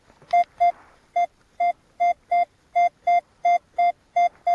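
Metal detector sweeping garden soil for coins and relics gives a target signal: a steady run of about a dozen identical sharp electronic beeps, evenly spaced and loud, close to the ear with nothing else heard.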